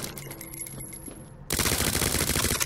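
Rapid automatic gunfire from Resident Evil 2 Remake bursts in loudly halfway through, a dense stream of shots following quieter game ambience.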